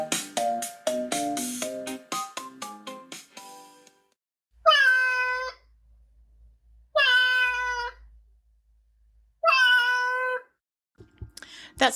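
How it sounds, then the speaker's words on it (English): A cat meows three times in clear, loud, drawn-out calls spaced a couple of seconds apart, close to the listener, after a short tinkling melodic tune. "That sound you just heard is my cat,"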